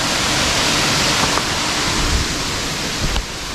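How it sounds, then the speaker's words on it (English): A waterfall at Matthiessen State Park roars steadily, a loud, constant rushing wash of water with a couple of faint thumps from nearby footsteps. "But y'all hear that waterfall?"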